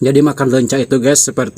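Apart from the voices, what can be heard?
No everyday noises stand out.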